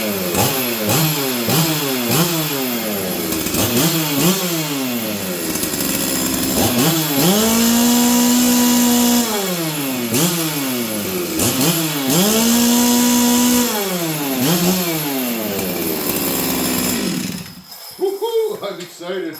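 A Stihl 044 chainsaw, freshly repaired, runs with a strong, steady engine note, rising into a couple of sustained high revs before settling back to a smooth idle; it stays loud and close throughout, then cuts off near the end.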